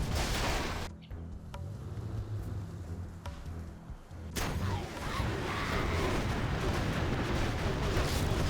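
Artillery platform in a real-time strategy game firing amid continuous battle noise, with a few sharp distinct booms standing out over a dense, loud background of game effects.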